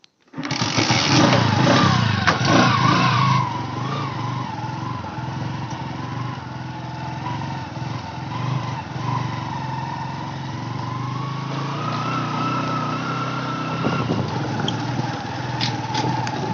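A motorcycle engine running steadily nearby, a loud buzzing drone that surges briefly at the start and then holds an even idle-like hum, with no talk.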